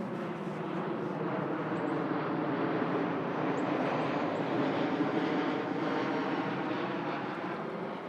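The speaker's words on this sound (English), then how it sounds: "you will hear airplanes going overhead" A steady, broad jet roar from an airplane passing overhead near an airport, holding at an even level throughout with no voices.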